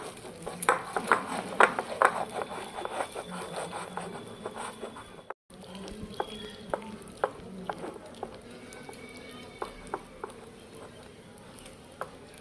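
A spoon scrapes and taps softly in a bowl of mango crepe batter as water is added bit by bit, giving quiet irregular clicks and rubs, louder at first and thinning out later.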